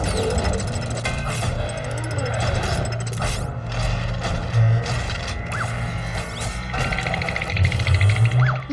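A new toy robot whirs and grinds mechanically without a break, with clicking, ratcheting and clattering layered over a steady low hum that swells now and then.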